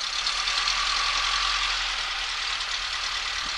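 A light aircraft engine idling at about 1,000 RPM, a steady low droning hum with a rough, even thrum, heard from inside the cockpit with continuous hiss.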